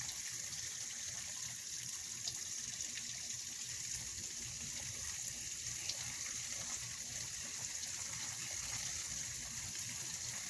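Water runs steadily into a sink while cleaned bluegill fish are rinsed, a close, even gushing and trickling with no break and no voices.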